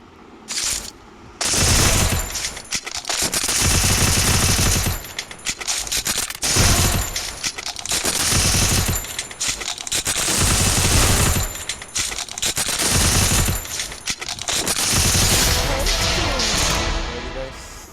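A UMP submachine gun in the game Free Fire fires in loud rapid bursts, about eight separate volleys of sustained automatic fire with short pauses between them.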